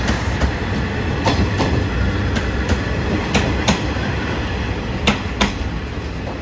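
The Ai-Yoshinogawa trolley train runs out of service toward its depot, with a steady loud rumble of rolling wagons and repeated rhythmic clickety-clack wheel beats on the rails, no voices.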